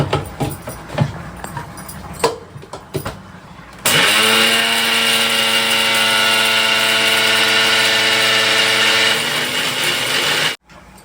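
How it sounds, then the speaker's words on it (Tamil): A mixer grinder runs steadily for about seven seconds, grinding pepper and two other masala ingredients together in a loud, even whine with a strong tonal hum, then cuts off abruptly. "இது மூணுத்தையும் சேர்த்து நம்ம அரைச்சிக்கலாம்"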